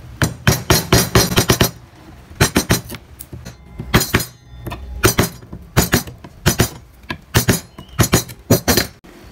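Mallet striking a chisel carving wood, repeated sharp close knocks in quick rhythmic bursts with short pauses between groups, loud and alone.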